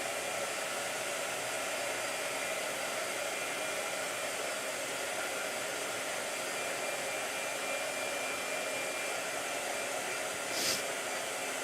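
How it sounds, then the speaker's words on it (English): A hair dryer blows steadily with a constant airy whoosh, close and unchanging throughout, with one brief faint knock near the end. "Blow dryer."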